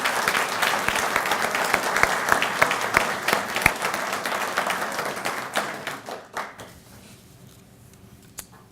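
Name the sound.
audience applause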